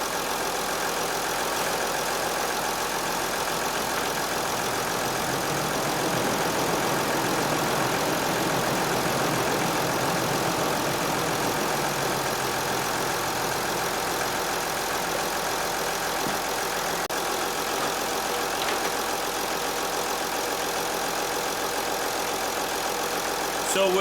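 A Mercedes Sprinter van engine idling steadily in its engine bay after an oil cooler leak repair and oil pan replacement, a continuous even drone running the whole time at a constant level.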